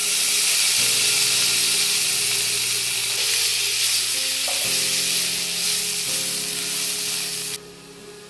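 Chopped garlic sizzles in butter in a wok, a steady loud frying hiss with occasional stirring scrapes, continuous and close throughout.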